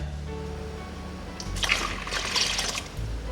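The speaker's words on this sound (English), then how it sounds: "some more water." Water poured into thick okpa batter of bean flour with spices and salt, a splashing, gurgling pour that swells after a low background hum, with no talk.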